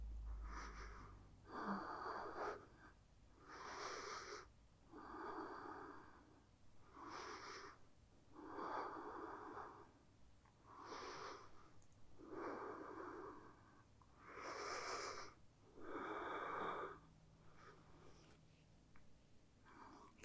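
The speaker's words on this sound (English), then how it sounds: "breathing." Slow, steady breathing during a yoga flow: repeated soft inhale-exhale cycles roughly every two and a half seconds, close and quiet, with no talking.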